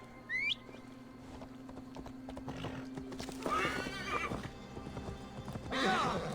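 Horse from Assassin's Creed Valhalla gives a loud, shrill whinny, then steady clip-clopping hooves continue beneath game ambience with a second neigh near the end.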